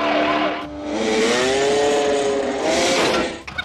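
A stolen motorcycle roars through an escape from a police station in a Rambo film, its engine whining and rising in pitch over a loud, continuous rush of action noise.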